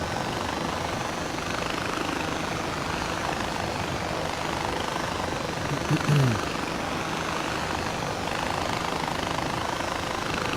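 A helicopter in the video game Far Cry 4 gives off a steady, loud, dense rotor and engine roar that holds evenly throughout, with one brief higher chirp partway through.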